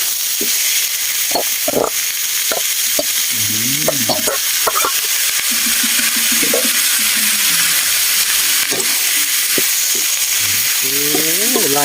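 Fresh beef stir-frying in a pan for Thai basil beef, a steady loud sizzle with scraping stirs throughout, while voices talk and music plays in an outdoor evening setting.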